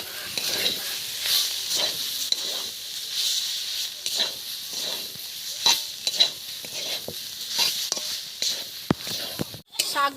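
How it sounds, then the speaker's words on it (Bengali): Susni greens frying in a pan with steady sizzle and repeated stirring scrapes, hissing throughout with periodic spatula strokes; a voice is faintly present at times. "আরো 5 মিনিট ভেজে নেব"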